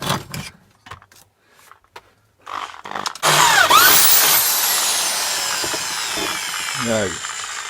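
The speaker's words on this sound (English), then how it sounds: "for this test I'm going to see if I'll drill through the casing and I can check the bits that come off" An electric drill bores through the metal casing of a fridge compressor, starting with short bursts and then running as a loud continuous whining grind for several seconds.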